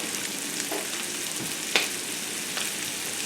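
Pearl onions cooking in a pan for coq au vin give a steady, fairly quiet sizzle of frying with a few soft stirring clicks, heard alone without talk.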